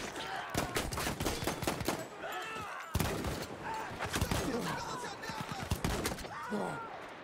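Heavy, rapid gunfire rattles through a war video game battle in dense overlapping bursts and loud single shots, with excited voices shouting over the shooting.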